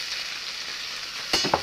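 Chopped onion and green chili sizzle steadily in hot oil, a close, even crackle, broken near the end by two sharp clinks of a spoon stirring the pan.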